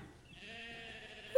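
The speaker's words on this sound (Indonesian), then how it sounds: "Ada 3 kawanan domba berkumpul di sana." Sheep bleat from a flock gathered at a well at midday, one drawn-out bleat heard faintly and close, with no talking.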